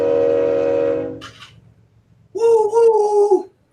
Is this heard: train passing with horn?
yes